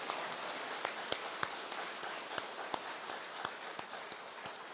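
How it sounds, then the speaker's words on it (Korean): A church congregation claps in thanks for the pastor during a Sunday worship service, a steady wash of many hands with a few sharper claps standing out, moderately distant and sustained throughout. "저희 시간에 한번 목사님에게 다시 한번 감사의 박수 한번 하시겠습니다."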